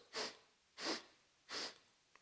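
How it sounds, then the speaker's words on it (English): Three quick, forceful sniffs in through the nose during a breath of joy yoga practice, each a short, hissy inhale separated by brief pauses, close and clear. "breathing in 3 times through my nose"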